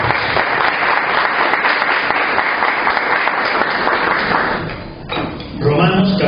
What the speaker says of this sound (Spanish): Denle un fuerte aplauso de bienvenida.